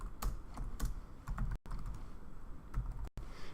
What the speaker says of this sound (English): if I'm typing my document